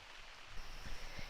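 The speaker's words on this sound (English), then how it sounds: "then it started raining." Steady rain patters on a tent outdoors near the Clarion River, a dense, even hiss with a few soft thumps of heavier drops, heard alone with no talking.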